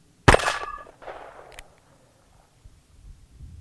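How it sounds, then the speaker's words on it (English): A single sharp gunshot from a Ruger New Vaquero .357 revolver with a 4-inch barrel, fired one-handed outdoors, rings out loud and close, followed by a short echoing tail and faint background noise. "I'm gonna shoot it one-handed, hopefully."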